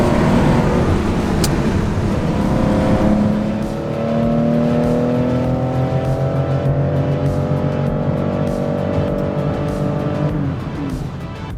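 A Porsche 911 ST drives hard along a twisty mountain road, its engine loud and close as it rises and falls through gear changes, with a brief tyre squeal and no talking.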